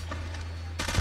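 Gunfire from a Type 25 rifle skin in a mobile shooter game, a dense rapid burst that ends and is followed by a sharp, loud new report, with a steady low hum underneath.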